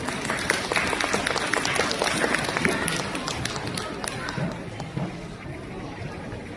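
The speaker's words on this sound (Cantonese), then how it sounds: "我俾啲掌聲佢啦" A crowd at a school K-pop performance breaks into brisk applause. The dense clapping is loudest early, eases off toward the end and has some voices mixed in.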